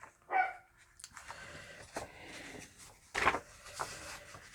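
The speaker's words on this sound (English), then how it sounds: "He's a little guy and he just loves to bark." A little dog barks indoors, about four sharp, fairly close barks spread unevenly through the clip, with soft rustling in between.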